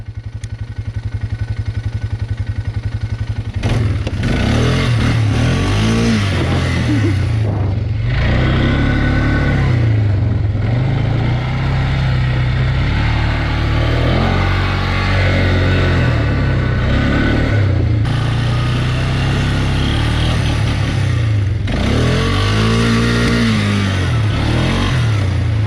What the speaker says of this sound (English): Who thought a utility quad could do wheelies like this?